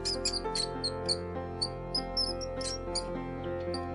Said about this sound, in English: rat,